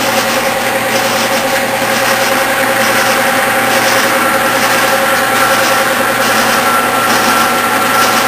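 A machine shop lathe runs under power while a die cuts threads, a steady loud mechanical drone with a constant whine and no breaks.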